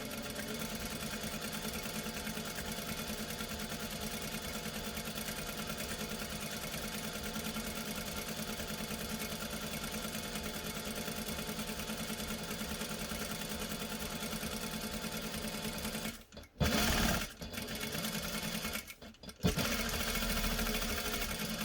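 A sewing machine runs steadily while stitching a drawstring dice bag about an eighth of an inch from the edge, a continuous close whir that breaks off with a few short stops and restarts near the end.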